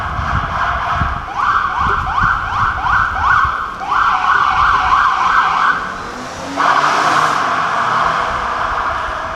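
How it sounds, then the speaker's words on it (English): Emergency vehicle sirens pass an outdoor flag-raising ceremony in Passaic, New Jersey, wailing loudly and cycling up and down over passing road traffic, then shifting pitch as they go by, with no talking. "it's fitting that we have sirens as we read yours"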